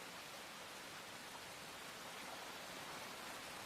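Steady rain in a dramatic scene, a dense even hiss of falling water holding constant and fairly faint throughout, with no voices.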